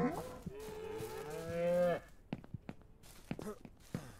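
Cattle on a farm in the Ranch Simulator video game give a loud, drawn-out moo, followed by a scatter of heavy thuds and footstep-like knocks.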